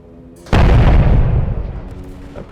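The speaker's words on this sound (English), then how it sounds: "this is the 14-inch gun" A 14-inch naval gun fires in the Pacific wargame Beach Invasion 1945: a single close, heavy blast after a brief quiet lead-in, followed by a long, decaying rumble.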